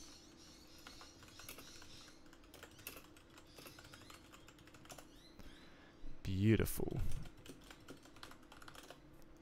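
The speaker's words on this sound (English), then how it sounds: "I'm so nervous typing in my sudo password every time on stream" Soft typing on a computer keyboard while running a command line for PlayStation 2 development, with light scattered key clicks under a quiet background and one brief louder burst; a voice speaks a short word.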